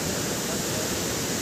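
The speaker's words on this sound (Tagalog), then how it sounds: "Guys, yan ngayon ang dagat namin" Rough sea waves crash on a shore in a steady, loud, broadband roar with no breaks.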